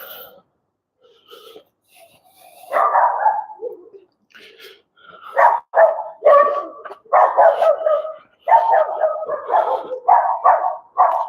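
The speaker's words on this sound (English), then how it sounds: "A few dogs wanted to join us on the raid by the sounds of it." Several dogs bark in bursts, with yips and wheezy barks coming in quick, irregular clusters, fairly close and clear against a quiet background.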